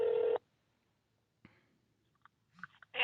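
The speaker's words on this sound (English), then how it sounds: "I'll just play the phone call for you. Here's the phone call." A single loud telephone dialing tone opens a phone call, followed by near silence, a few faint clicks and then soft line noise.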